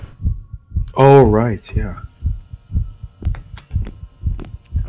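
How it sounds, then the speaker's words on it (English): Steady low throbbing heartbeat sound effect from the video game Inside the Backrooms, pulsing about twice a second throughout, with someone speaking briefly over it early on. "I have a heartbeat going on."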